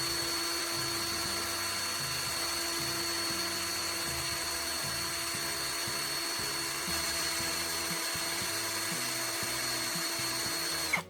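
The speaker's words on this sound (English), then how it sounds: "securing the tip into my drill. This allows me to evenly sharpen and reshape the tip with sandpaper" A power drill spins a soldering iron tip against sandpaper, giving a continuous high-pitched whine with a steady grinding rasp. It stays loud and close with no pauses.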